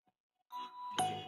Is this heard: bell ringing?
yes